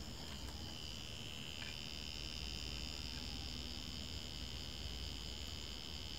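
A faint, steady high-pitched electronic chirp from a set-top box's emergency-warning buzzer, thin and cricket-like, buzzing continuously over a low background hiss.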